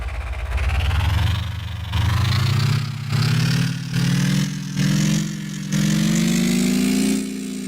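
A sports bike engine built in the Gearblocks game idles with a low drone, then revs in about six loud bursts of throttle whose pitch climbs steadily across the run, with no talking.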